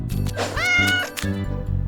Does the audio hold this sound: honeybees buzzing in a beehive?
no